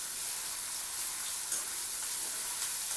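Onion, green chilies, garlic paste and ginger paste with a little turmeric sautéing in hot oil for mutton sukka, a steady close sizzle and hiss that holds evenly throughout with no talking.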